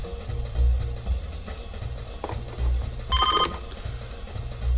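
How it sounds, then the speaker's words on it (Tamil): A telephone rings in a Tamil-dubbed adventure movie, a short bright trill partway through, set against pulsing background music. "ஃபோன் அடிக்கிற சத்தம் உனக்கு கேட்கலையா?"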